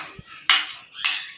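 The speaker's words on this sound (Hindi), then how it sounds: "तो अभी हम आलू मामूली मैश कर रहे हैं" Boiled potatoes being mashed in a metal vessel for aloo paratha, with two sharp utensil clanks against the pot rising from quieter scraping, close and loud.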